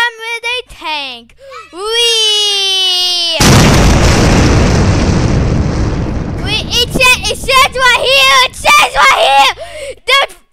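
Loud explosions and crashing bursts from a tank ramming in a video game, a dense roaring blast of noise lasting several seconds between high-pitched cartoonish voices and squeals.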